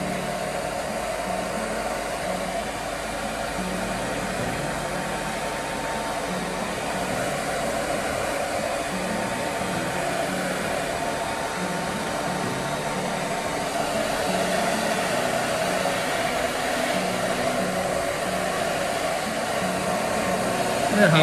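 A hair dryer blows steadily and fairly close for the whole stretch while hair is stretched and dried during styling at the end of a blow-dry, a continuous broadband whoosh with a slight lift near the end.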